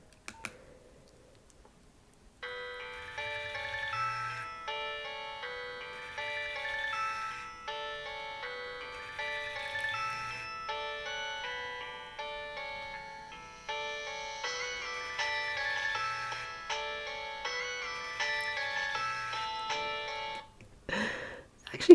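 A retro Nokia mobile phone plays its "Airy mid" ringtone, a bright tinkling melody of repeated electronic notes that runs close and clear for about eighteen seconds, with a quiet click before and after.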